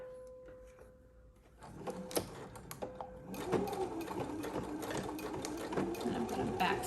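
A sewing machine stitches a quilted box bag, running steadily and close after a quieter start, with the whir continuing under light handling noises.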